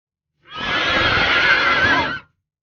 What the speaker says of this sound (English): It's a horse.